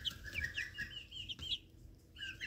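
Young chicks in a brooder give repeated high, thin cheeping calls in quick bursts, close but faint, with a short pause before the peeping resumes.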